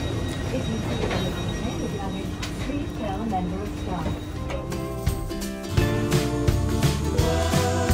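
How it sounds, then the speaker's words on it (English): A train pulls into a station platform, with rumbling wheels, squealing brakes and clanking carriages growing louder and busier in the second half, while people talk in the background. "So the train is here."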